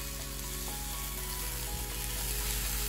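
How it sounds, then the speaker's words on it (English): Two chopped tomatoes dropped into a pan of onions frying with roasted hing for daal khichdi, giving a steady, close sizzle with a few stirring knocks and scrapes throughout. "I'm going to add in 2 chopped tomatoes."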